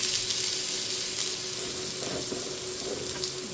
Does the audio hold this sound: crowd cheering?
no